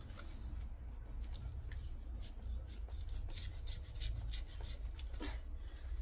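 Roots of a potted goldcrest cypress are cut and torn apart, giving quiet, close rasping and rubbing scrapes with short crackling snips in an irregular rhythm, with no talking.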